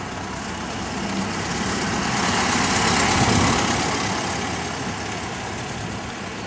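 A 1928 Whippet 96 Tourer engine runs steadily up close, a dense continuous rumble that swells slightly as it revs then settles; the carburetor needs cleaning or tuning.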